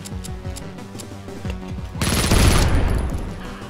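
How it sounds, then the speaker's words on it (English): SMG fire in the video game Project Warlock, first as light rapid shots and then a loud, dense burst of automatic fire with a sharp blast around the middle. "Haven't used the SMGs in a while."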